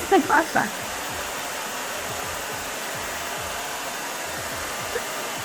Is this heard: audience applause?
no